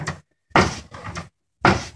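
A haunted dresser drawer driven by a 12-volt DC motor, spindle and plywood striker bangs open and is pulled back by a bungee cord, giving loud repeated thumps and rattles with short silent gaps.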